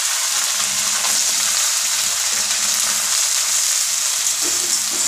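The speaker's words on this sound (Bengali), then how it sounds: "মশলাটা একটু ভালো করে কষিয়ে নেব।" Bay leaves and ginger-garlic paste fry in a pan for a flattened-rice pulao, a loud, constant close sizzle with no talking.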